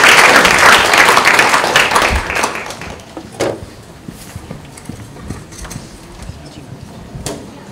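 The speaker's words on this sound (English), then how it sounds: "So please give them a round of applause." Audience applause at a research-practice partnership symposium, starting loud and dense with many hands clapping, then thinning out over several seconds into scattered claps and room noise.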